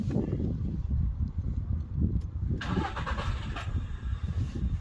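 A Volkswagen Polo engine under repair for an unresolved fault is cranked and started, a loud low rumble throughout with a brighter rise partway through as it catches and runs.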